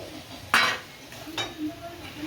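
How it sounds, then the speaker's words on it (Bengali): Potato and pointed gourd being stir-fried with spices in a pan: a sharp metal clank of a utensil against the pan, then a lighter scrape and faint stirring, brief and close. "এবারে আলু পটলটা দিয়ে একটু কষাবো"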